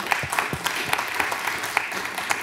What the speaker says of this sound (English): can we just give a round of applause for this group?